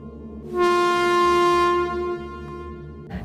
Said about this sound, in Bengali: আর এইদিকে সেই ট্রেনটা খুব কাছে চলে এসেছিল